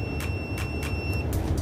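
A multimeter's continuity alarm beeps in short repeated pulses while its probes touch the normally closed terminals of a magnetic contactor, with a steady background hum underneath.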